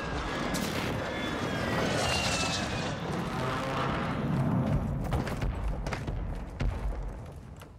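A Warzone 2.0 UAV drones overhead as a broad, steady aircraft roar that fills the scene at constant loudness, with a few dull thumps breaking through near the end.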